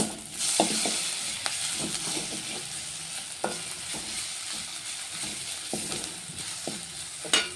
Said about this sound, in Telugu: ఇందులో కొంచెం అల్లం వెల్లుల్లి పేస్ట్ వేసుకుంటాను కొంచెం